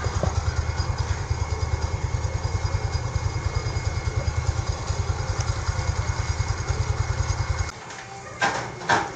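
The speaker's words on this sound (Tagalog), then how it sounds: "Ganda na ng tunog ng makina." A small motorcycle engine idles steadily at close range, its low rapid pulsing even and unbroken for most of the time before cutting off near the end, followed by a few light knocks and clatters.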